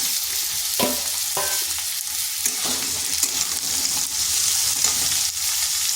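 Potatoes fry and sizzle steadily in a pan with a little salt, with a few louder scraping stirs of a spatula standing out against the constant hiss.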